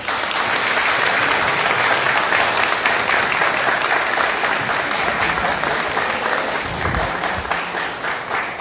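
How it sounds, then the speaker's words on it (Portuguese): Audience applause at a Spiritist lecture event in São Gonçalo, a dense, steady clapping from a crowd that continues strongly for several seconds without talk. "Palmas para vocês."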